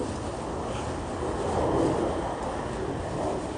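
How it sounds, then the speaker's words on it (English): An aeroplane passes overhead near an airport beside the Leeds Liverpool Canal, a broad moderate roar that swells and fades. "so if you hear aeroplanes in the background, can you hear that?"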